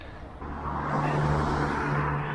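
Traffic on a busy dual carriageway heard from the roadside, with a car swelling past as a steady broadband roar over a low hum.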